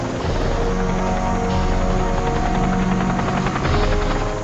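A light aircraft flies over the Zambezi River toward Victoria Falls, its engine and rotor-like drone loud and constant from inside the cabin.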